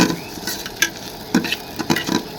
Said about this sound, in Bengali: এবার আমাদের ডাল আর পেঁয়াজ রসুন ভাজা হয়ে গেছে